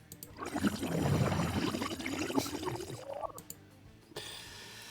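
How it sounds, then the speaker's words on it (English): Eerie bubbling from a swelling creature in the visual novel Amber Quartz, a loud gurgling, pouring liquid burble that rises and churns for several seconds, then cuts to a thinner hiss near the end. "An eerie bubbling sound could be heard as the enemy right side continued to swell."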